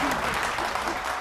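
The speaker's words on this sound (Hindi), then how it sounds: "जोरदार ताली हो जाओ" On the stage of an Odia dance reality show, an audience applauds in a brief, steady burst of dense clapping that carries evenly through the whole moment.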